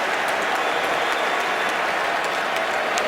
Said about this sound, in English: And the crowd is alive here at MetLife Stadium.